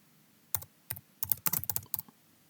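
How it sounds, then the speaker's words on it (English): Fingers typing on a computer keyboard in a quiet room, with short bursts of keystrokes and a quick run of clicks in the middle, close and fairly soft. "So you type Google Forms"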